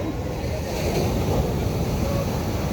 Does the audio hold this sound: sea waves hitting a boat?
yes